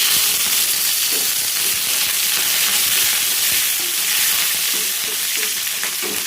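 Cumin and mustard seeds with a little curry leaf sizzle in hot oil while tempering a coconut chutney: a steady, dense frying hiss that stays close and loud throughout, with no talking.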